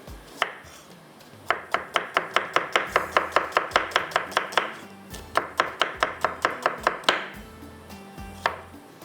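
A knife chops an onion into thick pieces on a board with loud, crisp, evenly spaced strokes in two quick runs, separated by a short pause and followed by a few last chops; nobody speaks.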